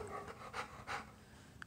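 A puppy pants faintly in a few quick breathy bursts, close but soft, with no talk over it.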